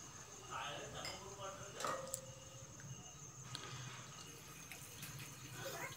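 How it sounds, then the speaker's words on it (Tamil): Water pours and splashes into a pan of mushroom gravy in a quiet room, a light trickling sound with a few small clinks. "கூடவே ஒரு கப் அளவுக்கு தண்ணியும் சேர்த்துக்கோங்க."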